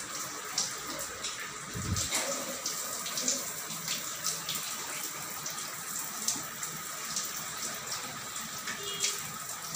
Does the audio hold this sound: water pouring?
yes